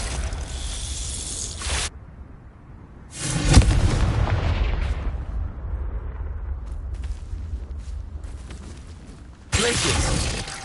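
Spell explosions from Confringo in the video game Hogwarts Legacy: loud broadband blasts with deep rumbling booms and bursts of crackle, one near the start, a heavy one around the middle with a long decaying rumble, and another at the end.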